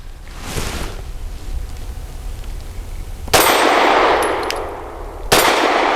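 Two loud shots from a Mossberg MC2C pistol ring out at an outdoor range, roughly two seconds apart, each followed by a bright decaying echo over quiet background.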